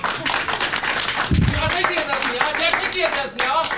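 One person claps hands in a German studio debate, several quick claps heard under ongoing talk, with a brief low thump partway through.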